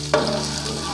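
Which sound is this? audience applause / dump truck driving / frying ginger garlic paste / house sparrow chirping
frying ginger garlic paste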